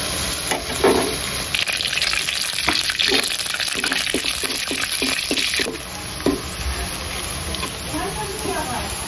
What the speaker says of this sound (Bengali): পেঁয়াজটাকে বেরেস্তা করে নিচ্ছি।